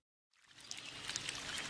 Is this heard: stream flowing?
yes